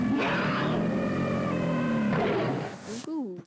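A movie dinosaur roar blended from a baby elephant, an alligator and a tiger: a loud, layered, sustained roar with shrill harmonic tones over a deep growl, ending in a short descending snarl.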